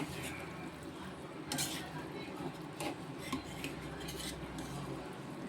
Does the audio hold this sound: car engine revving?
no